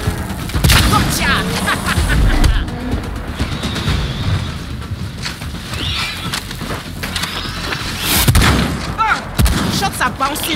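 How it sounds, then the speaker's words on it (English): Gunfire in the Second Extinction video game, with bursts of shots and heavy booms striking armor, loud and near, and brief voices in between. "Shots are bouncing off."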